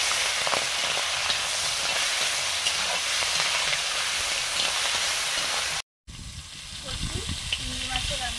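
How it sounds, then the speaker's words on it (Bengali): Prawns fry in mustard oil in a pan, giving a steady, dense close-up sizzle that drops out briefly, then returns with faint crackles. "চিংড়ি মাছ ভাজা হয়ে গেছে"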